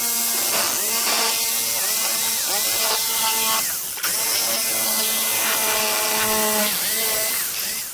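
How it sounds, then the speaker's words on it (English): A jigsaw cuts through plastic around a car headlight on a Regal GS, buzzing loudly and steadily with shifting whine as the blade works, briefly pausing midway before resuming. "Probably just connect these 2 holes with my jigsaw."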